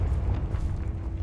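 A Bombarda explosion spell goes off in Hogwarts Legacy: a loud, sustained low rumbling blast lasting just over a second, dense and boomy throughout.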